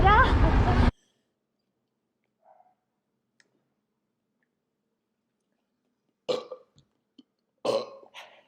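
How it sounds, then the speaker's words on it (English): People burp after drinking soda inside the church at Chamula, a few short, abrupt belches spaced apart in near silence, following a brief burst of talk. "We hear they're gonna burp soda."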